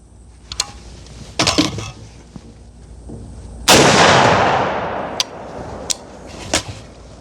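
A budget home-defense rifle fires a single loud, sharp shot aimed at a steel target, with a long ringing decay afterward and a few clicks and knocks before and after.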